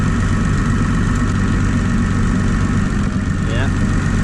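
A Mitsubishi Galant VR4 engine idles with a misfire, giving a loud, steady low rumble with an uneven, shaking character. It runs close by and without pause, and no one speaks.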